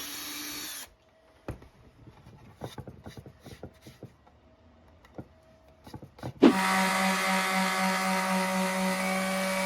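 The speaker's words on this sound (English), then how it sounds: "Drill out 4 holes the size of the rope you're going to use to hang the swing with." A power drill whirs briefly, then a spell of quiet clicks and knocks before the drill starts again, loud and steady, boring rope-sized holes in a wooden swing seat close by.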